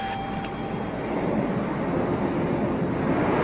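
Steady broadband roar of surf washing onto a beach, a continuous rushing wash with faint wind, no voices.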